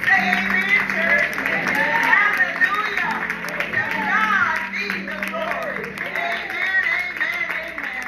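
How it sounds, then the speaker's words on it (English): A church congregation claps hands in praise during a sermon service, steady massed applause filling the room with voices and crowd babble mixed underneath throughout. "Give the Lord a hand clap of praise"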